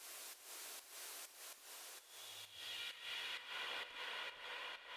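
Broadband white noise in rhythmic pulses, rising and falling like a pumping effect, with a hissier, brighter layer swelling in about halfway through.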